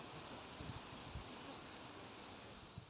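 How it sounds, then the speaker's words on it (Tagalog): Strong wind gusting under trees at a rose garden in Chiba, Japan, a steady broadband roar with low buffeting rumbles against the microphone throughout, no voices. "Sumasayaw ang hangin sa sobrang lakas ng hangin."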